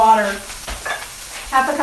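Boiling pasta water poured off from a pan on a kitchen stove, a splashing, hissing gush that comes in uneven bursts rather than one steady stream.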